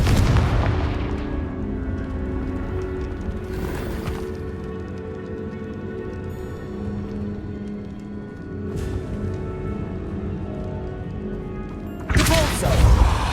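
Confringo fire-spell explosions from Hogwarts Legacy land as several heavy booming bursts a few seconds apart over steady game music, the last blast loudest.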